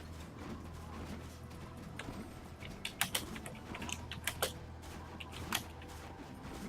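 Computer keyboard typing during a Tera online game session, scattered clicks and a few sharper key strikes over a steady low game background hum, no talking.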